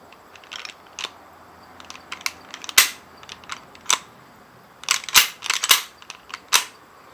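A compact Beretta Px4 Storm .40 caliber pistol fires about a dozen sharp, spaced shots, with a couple of tighter pairs toward the end and quiet gaps between reports.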